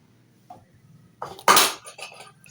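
A metal spoon scrapes and clinks against a cooking pot while suji halwa is being made, giving a few sharp metallic strokes with one loud scrape in the middle, close up and with no talking.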